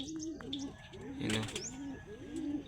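Pigeons cooing in a steady, repeating rhythm close by, with chirps and a brief flutter of wings midway through, as the flock settles back after ranging flights.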